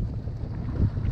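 Wind buffets a small fishing boat heading out toward Matlacha Pass off Pine Island, making a steady low rumble with a constant hiss across the whole stretch and no talking.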